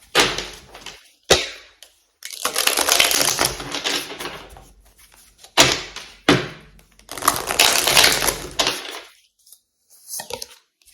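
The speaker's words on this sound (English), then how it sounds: "I will do a good hard shuffle." A Mayan-style tarot deck gets a vigorous hard shuffle, with loud bursts of riffling cards broken by short pauses, close and alone with no talking.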